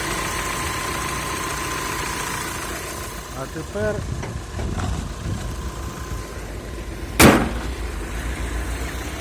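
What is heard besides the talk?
van engine running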